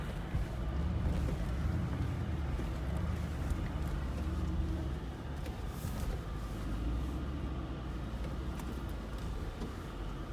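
A 2019 Mercedes G63 G-Class crawls over an off-road obstacle at about 3% throttle, giving a steady low engine rumble that stays even throughout, with no voices.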